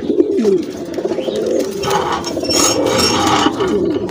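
Fawn satinette pigeons cooing close by in a loft, soft repeated throaty coos with some rustling and faint background noise.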